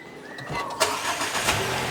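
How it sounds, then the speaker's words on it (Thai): A 2021 MG ZS 1.5X+ car engine cranks and catches, then settles into a steady idling rumble. "เดี๋ยวเราจะมาลอง สตาร์ทรถกันนะคะ เรามาฟังเสียงนะคะ เครื่องยนต์กันเนาะ"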